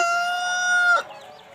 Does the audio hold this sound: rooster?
yes